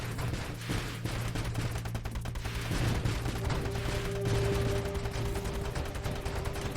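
A turret firing in the Nova Drift video game, rapid bursts of synthetic gunfire running throughout among other game effects and a sustained tone later on.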